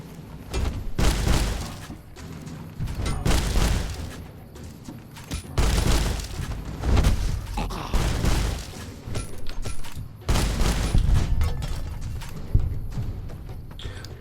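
Rapid gunfire from Fallout: New Vegas, loud bursts of shots and booms coming in several clusters across the stretch, with no talking.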